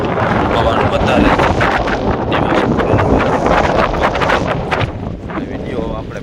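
Strong wind buffets the microphone at night aboard a fishing boat at sea, a loud continuous roar with gusty bursts, while someone talks under it.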